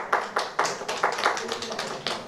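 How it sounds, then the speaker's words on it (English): An audience at a trade conclave panel discussion in Delhi claps in a sparse, uneven rhythm, with a handful of distinct claps spaced irregularly over about two seconds. "Add some clapping."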